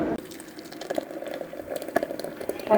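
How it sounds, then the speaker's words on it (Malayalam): Liquid poured into a glass at a family food gathering, a close, steady gurgling stream that rises in pitch slightly as the glass fills, with no talk. "ഒഴിക്കാണ്."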